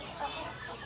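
Village chickens kept free-range in a small home yard cluck briefly in a soft, continuous murmur, near and unaccompanied by voices.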